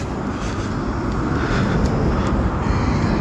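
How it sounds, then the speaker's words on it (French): A large Airbus airliner passes overhead with a loud, steady broadband jet roar that swells slightly partway through, heard outdoors with no voices over it. "Oh, il y a un gros avion là-bas."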